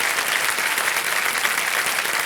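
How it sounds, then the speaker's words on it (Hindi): Loud, dense applause from a television quiz-show studio audience greeting a contestant in the hot seat, a continuous even roar of many hands clapping with no voices over it. "तालियां बज जाए एक बार जोरदार इनके लिए।"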